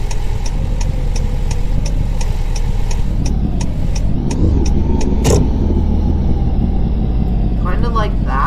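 A car drives steadily through a corner during a driving lesson, its mid-pitched engine rumbling continuously at close range with a brief knock partway through; a voice talks over it throughout.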